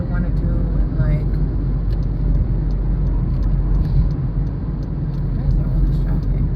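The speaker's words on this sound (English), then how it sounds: "why is there all this traffic?" Cars stream past on a busy road in a steady low rumble with a passing whoosh, while a person's voice carries over the traffic noise.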